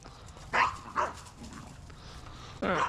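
A dog gives a few short barks and yips, two quick ones close together followed by another after a pause, fairly near against quiet background noise.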